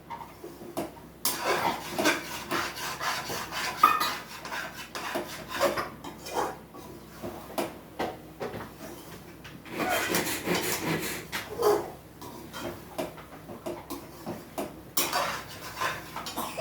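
A metal spoon scrapes and clinks against a pot while sweet halwa with syrup is stirred, irregular rasping strokes and knocks at close range with short pauses between.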